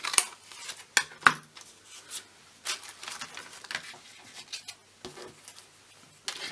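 Trimming the bottom off a paper gift tag card: a few sharp crisp snips and clicks at the start, then scattered light paper rustles and handling taps, close and fairly quiet, no talking.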